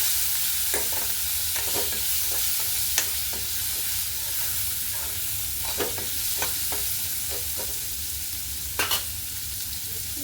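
Soaked chickpeas fry steadily in a pan with a constant close sizzle, while a spoon scrapes and stirs them in short, irregular strokes throughout.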